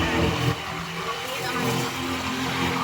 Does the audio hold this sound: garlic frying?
no